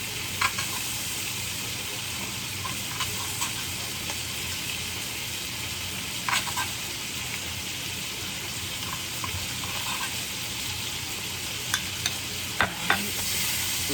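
Food fries and sizzles in hot oil in a pan, a steady dense crackle throughout with occasional sharper pops and clinks of stirring, close and fairly loud with no talking.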